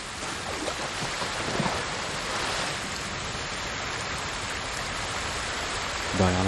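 A waterfall roars in Ghost of Tsushima, a constant dense rushing of water that holds steady throughout at moderate loudness, with a brief tonal sound at the very end.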